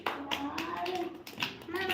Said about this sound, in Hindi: ताली बजाओ भाई सब बच्चे।